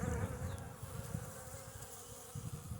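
Close, continuous buzzing of many honey bees at a hive in early spring, a low droning hum with individual insects flying past, no talking.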